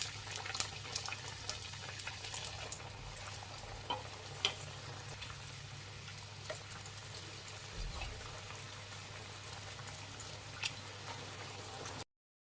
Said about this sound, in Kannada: ಇನ್ನು ಮಿಕ್ಕಿದ್ದು ಸೇಮ್ ಇದೇ ಥರನೇ ಎಣ್ಣೆಲಿ ಡೀಪ್ ಫ್ರೈ ಮಾಡ್ಕೊಳ್ಳೋಣ